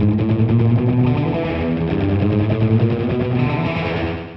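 Electric guitar played in a rockabilly style through a short delay echo effect, giving slapback repeats on each note; the playing is loud, continuous and dense, with no voices.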